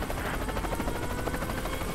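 A helicopter in the artillery game Worms W.M.D gives off a loud, steady rotor thrum with rapid rhythmic chopping that holds throughout, close and unbroken, with no voices.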